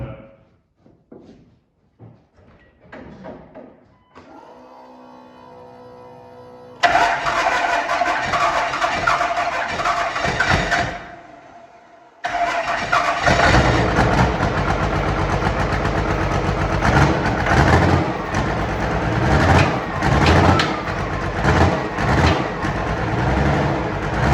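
A modified 6.7L 12-valve diesel engine built to 21:1 compression cranks briefly, then starts and runs with a loud, rough, close clatter, cuts out for a moment, and fires up again to keep running hard.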